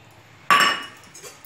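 Boiled toor dal and tamarind juice for sweet potato sambar are stirred together in a pot with a spoon; one sharp clink against the metal sounds about a third of the way through, followed by quieter scraping that fades off.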